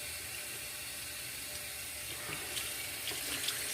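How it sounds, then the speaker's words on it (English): Tap water runs steadily over a shaving brush knot to rinse soap and grime out, a close, continuous splashing stream with slight surges toward the end. "What I'm doing is running the tap water on top of the knot so I can get all that soap and grime out."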